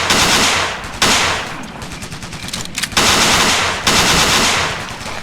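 Heavy automatic gunfire rings out during a training assault in the video game Ghost Recon, loud, close bursts of rapid shots separated by brief pauses, with no talking.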